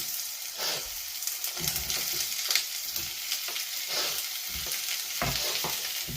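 Long-sliced onion frying in oil in a pan, a continuous close sizzle broken by scraping stirs at irregular intervals, no voices.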